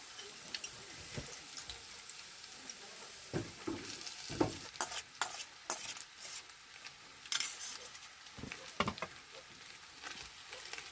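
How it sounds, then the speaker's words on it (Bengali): Rice stirred and fried in a hot pan with chopped green chillies for simple vegetarian fried rice: steady sizzling with repeated scraping strokes of a spatula, close up and without talk. "আমরা সেটাকে ভালোভাবে মিশিয়ে নেব।"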